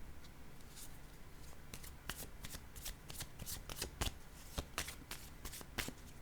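Tarot cards are handled and laid down, producing a steady run of close, papery flicks and slaps over a low background hum, each card snapping distinctly.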